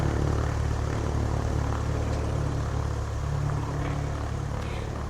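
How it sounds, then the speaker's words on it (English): A propeller airplane drones steadily in flight, a loud, constant engine roar that fills the whole stretch with no voices over it. "The plane rocks away as we bob up and down, clearing the storm."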